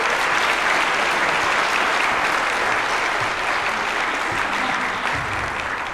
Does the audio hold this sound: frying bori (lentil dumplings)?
no